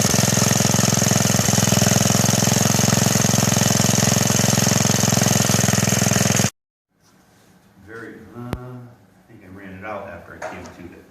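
A rebuilt small gasoline engine on a 1959 Wheel Horse RJ59 Ride-A-Way Junior tractor runs steadily with a loud, constant drone, then cuts off abruptly; afterward people talk quietly nearby.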